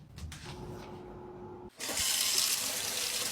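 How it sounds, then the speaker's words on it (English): A salon tap switches on partway through and runs in a steady close hiss of water for rinsing hair, after a quieter stretch of faint background noise. "Are you aware that your client's trying to rinse out her own hair right now?"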